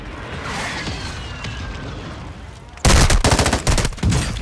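Loud, dense bursts of automatic gunfire from Call of Duty erupt after a quieter stretch of ambient battlefield rumble, rapid shots rattling close and continuous until the end.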